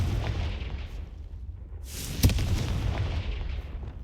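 A Confringo fire spell from Hogwarts Legacy bursts with a single sharp, booming explosion midway through, set over a steady rumbling backdrop of game ambience.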